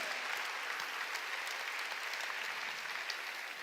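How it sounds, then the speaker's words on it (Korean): A church congregation applauds in praise during a sermon, a dense, even wash of many hands clapping that holds steady for several seconds, fairly loud and filling the room, with no voices on top. "박수로 하나님께 영광 돌리라는 거예요"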